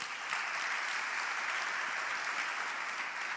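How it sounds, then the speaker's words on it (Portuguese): A church congregation applauds in praise to Jesus during a youth service, a steady, even wash of clapping from a large crowd that holds the whole time without a break. "Dê um aplauso a Jesus."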